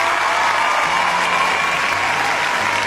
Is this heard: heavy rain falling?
no